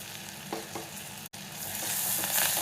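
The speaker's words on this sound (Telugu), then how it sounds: "కారం కొంచెం లైట్గా ఫ్రై అవ్వాలి" Chili powder sizzles in hot tempering oil for tomato dal, a close, even frying hiss broken by a few soft stirring scrapes and one brief dropout, then swelling louder toward the end, with no voice.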